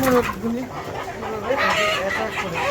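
Chickens cluck and squawk in short overlapping bursts, fairly close, with a busy mix of calls and some background voices.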